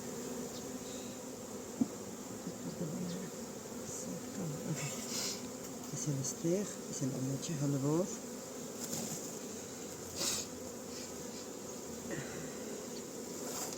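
Honeybees, a Buckfast and Cordovan mix kept in small colonies for queen rearing, hum faintly and steadily around an open beehive while someone talks nearby.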